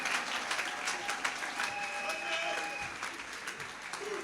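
A church congregation claps together at a worship service, a dense, continuous burst of applause that carries on from start to finish, with faint voices mixed underneath.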